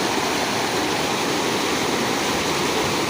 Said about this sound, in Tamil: தண்ணி பயங்கர ஃபோர்ஸாக போகுதுங்க இதில் காலை வச்சாலே ஆளை இழுத்துட்டு போயிடும் பயங்கரமாக தண்ணி போகுது